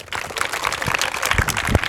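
Audience applause at a book launch ceremony, a steady dense patter of many hands clapping throughout, fairly close and loud.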